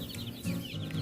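Ten-day-old chicks crowded together in a brooder give off rapid, overlapping high peeps, a steady chirping chorus close by with a low background hum.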